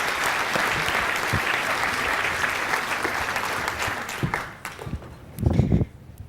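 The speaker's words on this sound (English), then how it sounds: "Give her a round of applause." An audience claps in a dense, steady round of applause that thins out toward the end, with a few louder close claps and thumps at the finish.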